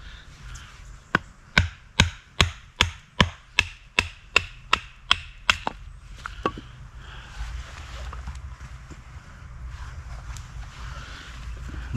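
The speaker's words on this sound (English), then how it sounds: "I'm just going to batten 4 pieces." A knife is batoned into dry wood to split it into four pieces, giving about a dozen sharp, evenly spaced chopping knocks close by that stop partway through, leaving quiet rustling afterward.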